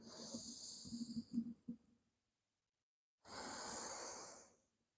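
Slow, quiet breathing during a qigong moving-meditation exercise: one long, soft breath, then a few seconds of silence, then another steady, airy breath, heard alone.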